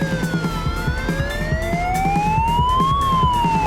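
A police car siren in a toy car racing video game wails up and down in pitch, loud and close, over a thumping engine and background game noise.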